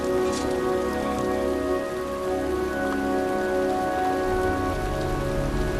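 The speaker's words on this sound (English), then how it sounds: "It's cold. It's raining. I'm standing outside getting soaked." In the video game Heavy Rain, steady, dense rainfall patters down continuously, a full wash of drops hitting surfaces with a low rumble underneath.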